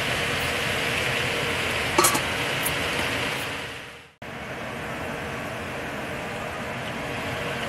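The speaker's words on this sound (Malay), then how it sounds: "First kita kena goreng lah ayam ni dulu." Chicken pieces frying in a pan of hot oil give a steady, dense sizzle that fills the whole clip, close and fairly loud, with a brief clatter near the start and a momentary drop partway through.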